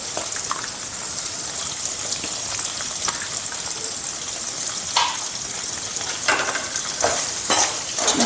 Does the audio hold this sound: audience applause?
no